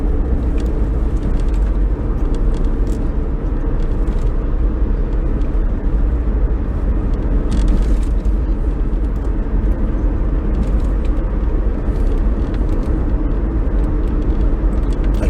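Steady, loud engine and road rumble from a Holden Commodore-type car close behind, a continuous broadband drone with a slight swell near the middle and no voices.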